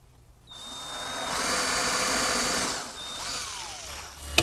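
A power drill driving screws to fix hardwood blocks to a wooden picture frame in a woodshop, one sustained whirring run of about three seconds with a brief dip near the end, close and loud, no voices.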